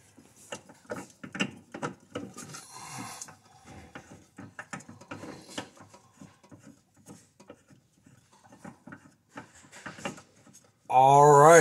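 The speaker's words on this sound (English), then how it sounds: "I'll take this cartridge, and I'll go ahead and screw this back in." A cartridge is screwed back into an Amerex fire suppression system, producing a series of small ratcheting clicks and metallic turns that come in uneven bursts, ending with a louder burst of sound.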